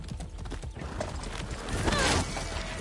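Horse hooves clip-clop at a gallop in the Far Cry 6 video game, a rapid rhythmic pounding that swells louder near the end, with a brief whinny mixed in.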